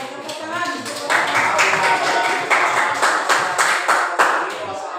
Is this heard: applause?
yes